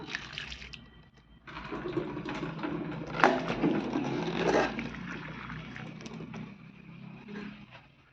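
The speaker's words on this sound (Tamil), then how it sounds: "தண்ணியை வடிச்சுக்கலாம்" Water pours and splashes steadily as it is drained from cooked turmeric roots, with a continuous rushing sound close by and a few clinks and knocks along the way.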